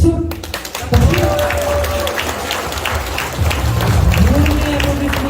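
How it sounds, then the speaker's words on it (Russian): Loud, sustained applause from an audience at a college diploma ceremony for graduates, a dense wash of clapping that briefly dips and then swells again near the end. "Бурные аплодисменты."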